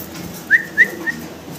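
Jet-black Mundian pigeons give three short, clear calls spaced about a quarter second apart, close and fairly loud over a quiet background.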